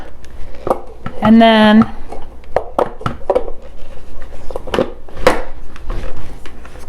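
A food chopper cuts up vegetables in a home kitchen with sharp, irregular clicks and knocks. A voice speaks briefly over it.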